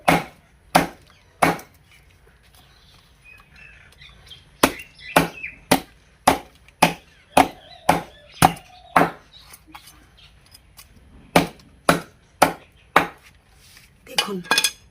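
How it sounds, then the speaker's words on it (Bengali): A large knife chops through hard bhetki fish bones in sharp, loud thuds, a quick run of strikes, a pause, then two more bursts of steady chopping. "ছুরি নিয়ে আগে কাঁটাগুলোকে সুন্দর করে কেটে নেব।"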